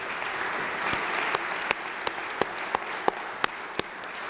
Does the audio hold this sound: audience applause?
yes